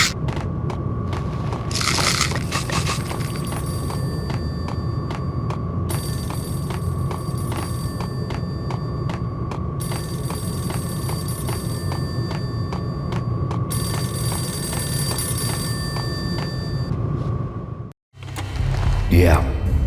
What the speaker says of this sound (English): A payphone started to ring.